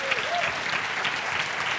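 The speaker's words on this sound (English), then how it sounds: "a round of applause." A short burst of audience applause for a group of women performers, steady dense clapping throughout, fairly distant and moderate in level.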